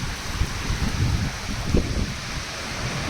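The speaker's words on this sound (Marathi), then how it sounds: "आता जोरात पाऊस आला." Heavy rain pours steadily at the start of the monsoon in Pune, a dense, constant wash with low rumbling beneath it that may be thunder, with no voices.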